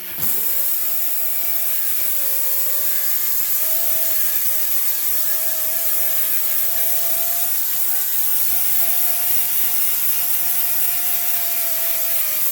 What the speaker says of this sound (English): we're going to take our little angle grinder with a wire brush in it.